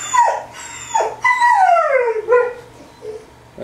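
A dog whines and whimpers in several high, sliding cries, with short pauses between them, close by.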